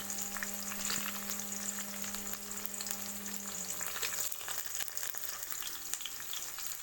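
Green chili and curry leaves, along with onion, frying in oil for a South Indian vegetable kichadi, giving a steady close sizzle and crackle with no talk.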